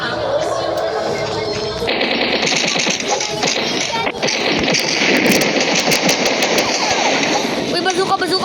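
Dense video game shootout gunfire, loud continuous rattling shots and crashes mixed with game noise, with voices talking over the din.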